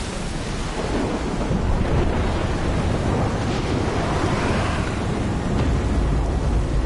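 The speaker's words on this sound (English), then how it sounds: "It's been a storm here the whole entire time." Storm in the video game Death Stranding: a steady, loud roar of wind and rain with low rumbling thunder, filling the whole stretch without a break and with no talk.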